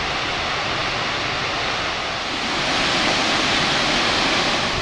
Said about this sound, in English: This is Foxy, one of the smaller waterfalls.